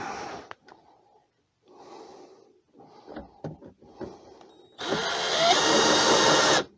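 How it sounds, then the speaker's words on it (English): A power drill drives screws through a scrap wood crosspiece while a woodturning sharpening jig is built, a single loud whirring burst lasting about two seconds near the end, after quieter knocks and handling sounds. "Get another piece of scrap wood. Right, and you put it going across on top like that, right, and just screw it down."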